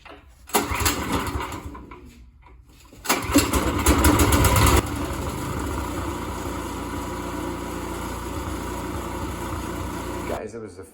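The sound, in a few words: snowblower engine starting and running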